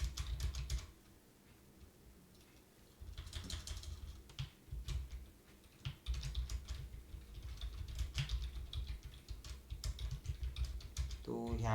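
Clicky typing on a computer keyboard while entering HTML text, coming in irregular bursts of close keystrokes separated by short pauses, with quiet room tone between.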